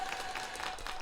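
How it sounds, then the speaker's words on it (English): Applause from an audience on a BBQ talk show, welcoming guest Brad Barrett of GrillGrate: a steady, close wash of clapping that holds at one even level for about a second. "let's give him a big round of applause for that one"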